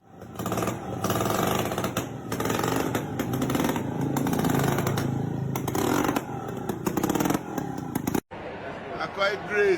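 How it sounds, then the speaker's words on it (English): A homemade motorcycle engine on a motorcycle built from tree branches: a rough, sputtering motor drones loudly and steadily with clattering rattles, then cuts out abruptly near the end before faint noise resumes. "This man made a motorcycle out of tree branches."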